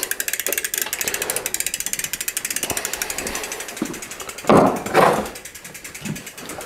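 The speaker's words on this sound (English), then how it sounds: "Check my crank bolts." A ratchet wrench clicks rapidly and steadily while checking the crank bolts on a thrift-shop Mongoose bicycle, close and alone, with a couple of louder clanks of the tool against the bike partway through.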